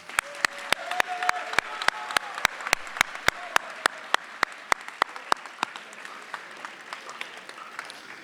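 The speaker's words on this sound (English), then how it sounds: "let's give a round of applause for all their hard work" At a ceremony, a steady run of single, evenly paced claps sounds close by over a soft murmur of audience applause, the rhythm thinning out toward the end.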